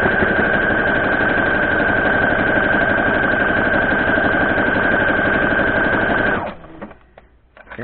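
A sewing machine stitches a seam on a 12-inch log cabin quilt block, a steady fast mechanical whir with a constant whine that runs for several seconds and then stops abruptly, leaving near silence.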